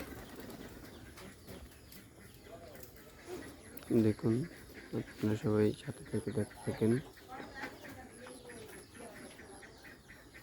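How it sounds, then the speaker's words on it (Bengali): Rajshahi Giribaz and Bombay pigeons are let out, with soft cooing and bursts of wing flapping nearby while someone talks over them. "আস্তে আস্তে সব কবুতরগুলো বাইরে দিচ্ছে।"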